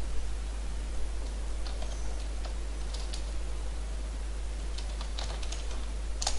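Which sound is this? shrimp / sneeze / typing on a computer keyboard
typing on a computer keyboard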